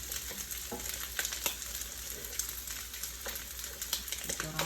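Eggs sizzle and crackle in a hot pan over a gas flame for curry fried rice, a steady close frying hiss with scattered pops and spatters, no talking.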